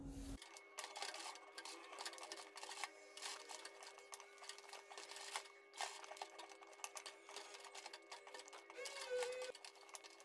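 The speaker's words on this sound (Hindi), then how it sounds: "आपको मशीन को अपनी बहुत ही फिनिशिंग के साथ सिलाई लगानी है। और पाइपिंग को जो है नीचे तक सीधा लगाते जाना है।" A sewing machine stitches piping onto a neckline, its needle rattling in a fast, steady run that stops and starts in short bursts, close and quiet.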